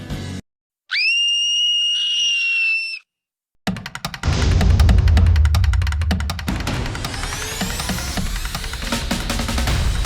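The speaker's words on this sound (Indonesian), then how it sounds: "Suara teriakan apa itu?" A loud, high synthetic scream-like wail in Sakura School Simulator cuts through silence, then gives way to dense rumbling game noise and crackling effects.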